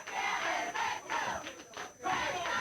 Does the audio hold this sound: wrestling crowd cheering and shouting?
yes